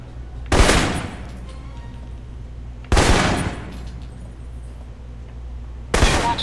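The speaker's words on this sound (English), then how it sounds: "For long-range encounters, the assault rifle's the key." Assault rifle fire in the Alpha Protocol video game during basic training: three separate sharp bursts spaced a few seconds apart, each with a decaying echo, over a low steady background hum.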